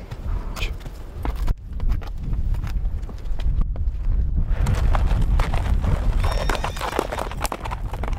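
A horse's hooves clip-clop on dry ground as it is led to drink water in a drought-hit area, steady close steps with a neigh, wind noise and some talking.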